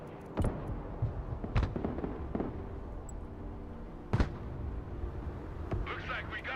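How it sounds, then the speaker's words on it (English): Artillery fire in Broken Arrow, a series of scattered, distant booms and thumps at irregular intervals, one sharper blast midway, under a low battle bed with radio-like voices. "Firing on that with Artie."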